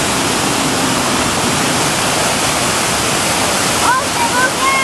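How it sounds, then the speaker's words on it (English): A roadside waterfall along Rogue River Road pours as a steady, loud broadband rush through the whole stretch, with brief voices and faint whistling tones near the end. "Is this a waterfall?"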